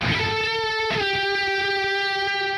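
A distorted electric guitar chord, with the chorus pedal placed before the amp, rings out with a shimmering, slightly dissonant wobble, then shifts to a new chord and sustains loudly, no voices.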